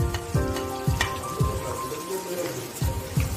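Garlic sizzles and crackles in hot coconut oil in a pan, a steady close frying hiss broken by repeated clinks and scrapes of a spoon against the pan, with no talking.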